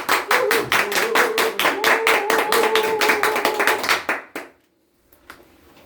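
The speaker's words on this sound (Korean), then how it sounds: "박수 주세요" Rhythmic clapping from a lecture audience, steady and fairly loud for about four seconds before abruptly stopping, followed by near silence.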